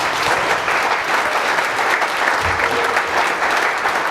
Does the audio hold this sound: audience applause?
yes